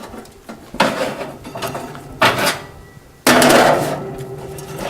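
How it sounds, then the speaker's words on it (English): Buttered toast slid into a toaster oven: a few clattering metal knocks and scrapes of the rack and door, ending in a louder sliding clunk, close and without speech. "and slide them in my oven."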